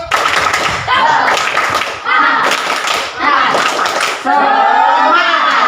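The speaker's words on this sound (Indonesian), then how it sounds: "Oke, tepuk semangat." A group of students in a classroom session claps a rhythmic spirit cheer, loud, close bursts of patterned clapping broken by brief pauses, with voices chanting along.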